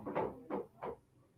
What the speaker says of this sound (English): Kayani, Kai, come close this door, please